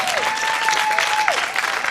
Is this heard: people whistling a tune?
no